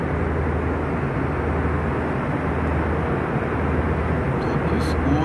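Cabin noise from an airliner in flight at night is a loud, constant roar with a low droning hum, steady and unbroken throughout.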